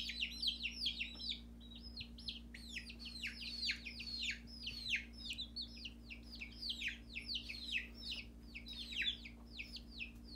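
Baby chicks chirp indoors in rapid, high-pitched peeping bursts that overlap continuously and fairly close, over a low steady mechanical hum with no speech.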